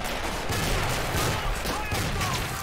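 Dense rifle fire and explosions from the Men of War: Assault Squad 2 battle, a Moscow 1941 trench assault with grenades, a steady loud crackle of overlapping shots with no clear pauses.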